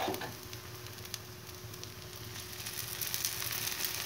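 Whole wheat roti cooks in a pan with oil, giving a steady, soft, crackling sizzle that holds evenly throughout and builds slightly toward the end.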